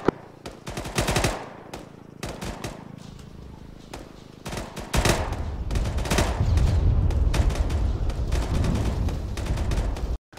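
Sustained automatic gunfire in a military video game, rapid bursts and rattling volleys ringing out over a rumbling battlefield backdrop, loud and close for most of the stretch, with no talk over it.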